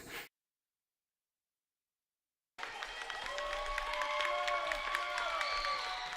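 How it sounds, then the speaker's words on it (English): A crowd at a seventh-grade girls' basketball game cheers and applauds at halftime, a dense, steady roar with whoops that begins abruptly after a brief silence. "this Arlington Heights South crowd has really just gotten fired up here during the halftime break"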